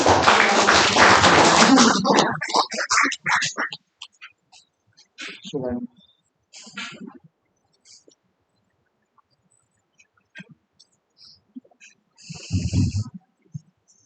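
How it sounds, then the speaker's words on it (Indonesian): An audience at a school teachers' sharing event applauds a speaker in a loud burst lasting about two seconds, then it dies away into quiet with scattered faint voices and small noises. "Tepuk tangan untuk Pak Kun"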